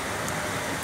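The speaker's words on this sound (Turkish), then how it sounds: "Yağmur bastırdı ama bastırdı." Heavy rain pours down in Çayeli, Rize, during flooding, a dense, loud, continuous hiss of downpour with no voices in this brief moment.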